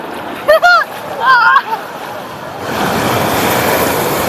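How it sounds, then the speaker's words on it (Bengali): Voices call out briefly on a beach at New Digha, then a broad rush of big ocean waves swells up and keeps roaring, loud and close. "বড় ঢেউ আসছে, এবার যাই আমি পালাই।"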